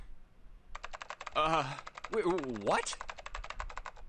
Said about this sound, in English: You're typing so fast, I can't even see your fingers.